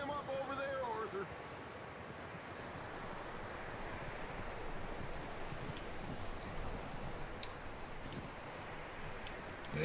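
Horse hooves clip-clop steadily in Red Dead Redemption 2, a continuous soft patter of hoofbeats set against a dense rustling outdoor ambience, with no clear speech over it.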